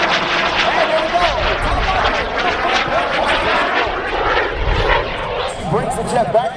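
A mini jet performing at an airshow thunders past with a continuous loud roar and rumbling low end that swells and fades, while an announcer talks over the noise.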